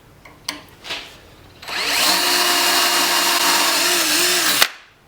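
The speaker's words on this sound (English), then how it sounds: "I'm going to start with a 1/8 inch drill bit and drill some pilot holes" A 1/8 inch bit bores pilot holes into spheroidized saw steel, a steady close, high-pitched power-drill whine holding for about three seconds after a few faint knocks, then cutting off abruptly.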